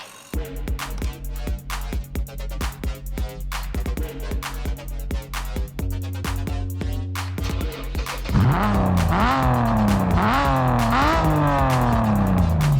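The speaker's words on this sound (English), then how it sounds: "start the engine to hear it rev" A car engine in the mobile racing game Racing Master pulses in short rhythmic bursts, then climbs into loud repeated revs that rise and fall in sweeping waves, close and alone.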